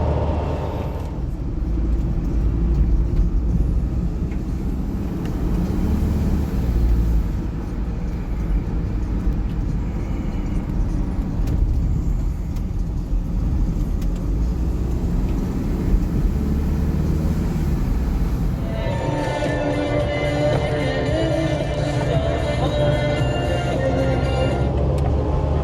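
Austin Allegro driving on a back road, its engine and road noise droning steadily from inside the car, with a rising whine and shifting tone near the end.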